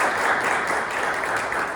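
An audience applauds to welcome a guest at a Korean panel talk, with steady dense clapping close by for the whole stretch and no break in between.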